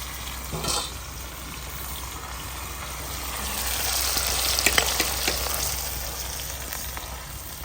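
Cumin seeds and green garlic dropped into hot oil, giving a bright, close frying sizzle that swells and crackles in the middle, with a few stirring clinks.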